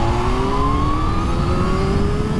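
A Kawasaki Z H2 super naked motorcycle with a straight-four engine pulls steadily in third gear from about 3,000 rpm, its rising engine note heard close and continuous with no talk.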